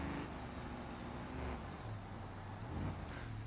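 A Moonhawk car's engine in BeamNG Drive roars continuously as it builds speed, a dense, loud drone with a rising tone and no voices over it.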